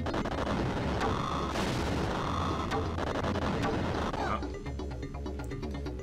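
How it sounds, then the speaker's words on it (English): Rapid gunfire from the Alien 3 game on the Sega Genesis, dense repeated blasts of shooting at an alien over constant loud game noise, with no talking heard. "Shot it while standing, needed to shoot it whilst crouched."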